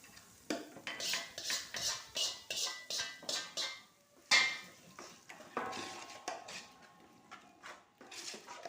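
Dried red chillies being stirred into tomato chutney, a rhythmic series of close scraping strokes against the pan, about a dozen in quick succession, then a louder clank and slower, uneven stirring with a faint ringing tone.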